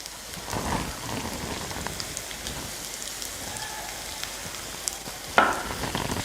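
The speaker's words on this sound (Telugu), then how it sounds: "ఒక రెండు నిమిషాలు బాగా వేగనిద్దాం" Chopped capsicum and turmeric sizzle in a hot pan, a steady loud crackling hiss with faint pops and a brief clatter near the end, no voices.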